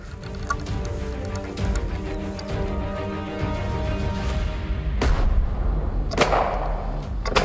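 A black-powder musket is fired during an eighteenth-century hunt for the Beast of Gévaudan, with several sharp cracks standing out over a low, busy background.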